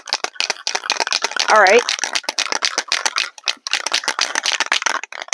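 Can of lacquer shaken by hand for furniture refinishing, a fast continuous rattle of the mixing ball, loud and close, with a brief spoken word partway through.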